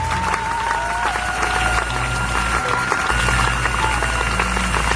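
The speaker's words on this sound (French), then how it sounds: "Est-ce qu'on peut encore acclamer Jésus ce soir?" Church congregation applauding and cheering for Jesus at an evening service, a loud sustained wash of clapping and voices with a faint tone running beneath.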